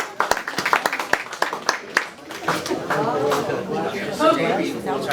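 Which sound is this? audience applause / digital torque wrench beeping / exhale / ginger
audience applause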